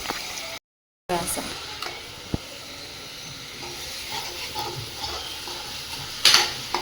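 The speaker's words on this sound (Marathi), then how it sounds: "कांदा आणि लसूण मस्त तळू देते" Raw ground onion and garlic paste frying in a pan at home, a steady soft sizzle with occasional scrapes and clinks of a spoon, a brief dropout near the start, and a sharper hiss burst toward the end.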